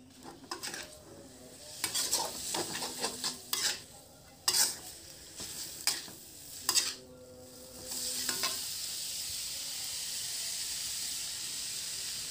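Noodle and vegetable filling for stuffed tofu stirred and frying in a pan, giving a steady sizzle broken by several scraping strokes of a utensil against the metal, close and fairly quiet, with no voices.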